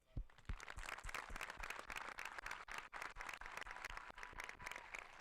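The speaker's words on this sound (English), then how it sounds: "Please join me in giving yourselves a quick but well-deserved round of applause" Graduating audience at the Riverbend graduation applauds in a steady burst of dense clapping that holds for several seconds, broad and fairly distant across the hall.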